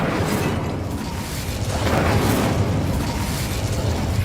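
An Incendio fire spell is cast with a loud, roaring burst of flame that swells and rumbles steadily for several seconds, close and dense, with no voices.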